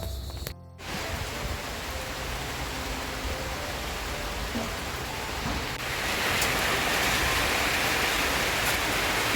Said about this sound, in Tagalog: Bigla pong lumakas yung ulan at ganito po yung ulan pag nasa probinsya ka talaga.